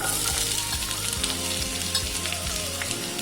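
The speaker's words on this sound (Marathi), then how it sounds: "तेल गरम झालेलं आहे, त्यात मी कांदा टाकते." Onion dropped into a small amount of hot oil sizzles and crackles steadily, a loud, continuous fry close by with no voices.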